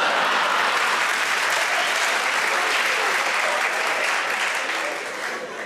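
TV show studio audience applauding, a dense, sustained burst of clapping from a large crowd that holds steady and fades slightly toward the end.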